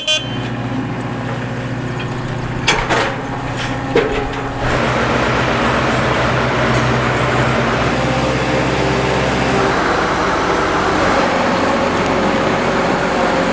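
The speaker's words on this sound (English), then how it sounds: "Cole is going to back up the 45-foot bean head" A tractor reversing a 45-foot bean head into a farm shed, with a loud, steady diesel engine drone throughout, close by, and a few clanks and knocks near the start before the engine noise swells and holds.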